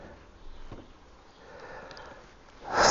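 Deep breathing while holding a twisting Ashtanga yoga pose: a soft, steady airflow of breath runs low and near, ending in a louder, rushing exhale that swells in the final half-second, with no speech.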